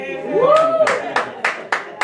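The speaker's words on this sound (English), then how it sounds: "let's clap for her" A church congregation at a Sunday gospel service claps in slow unison, a handful of loud, evenly spaced beats after a brief vocal sound.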